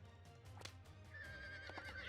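A horse in the video game Birushana Senki neighs in a short, quiet whinny at low level, with faint hoof-like clatter and a thin tonal ring alongside.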